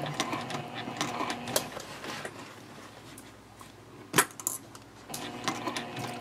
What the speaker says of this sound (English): I'm sewing from the gusset side.